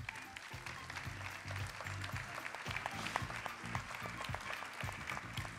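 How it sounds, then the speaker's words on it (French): An audience at a corporate awards ceremony, the Palme du Directeur Client 2017, claps in steady, dense applause that carries on throughout, fairly close and even, with no speech over it. "On peut les applaudir"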